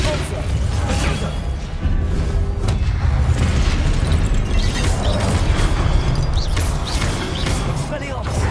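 Confringo blasting spell explosions in Hogwarts Legacy, a dense, continuous roar of booms and bursts throughout, with a voice calling out spell names over the din.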